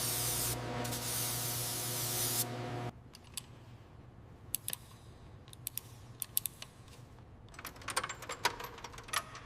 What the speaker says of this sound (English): Just spray it down.